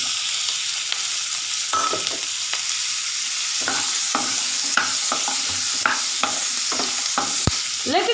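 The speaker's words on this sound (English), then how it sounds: "Let it fry for a minute." Chopped onion frying in a pan for a restaurant-style paneer butter masala, a steady close sizzle with intermittent scraping and clinking as it is stirred.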